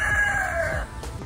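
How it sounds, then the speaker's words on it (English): A rooster riding in a shopping cart in the Florida Keys crows once, close and loud, its call sliding downward and fading after about a second, with no talking. "So we just had a rooster in a shopping cart."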